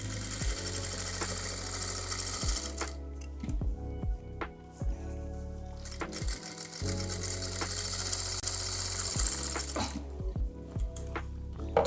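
Sewing machine running in several short bursts with pauses, stitching the side seam of a cotton fabric pocket, close and fairly steady, with no one talking.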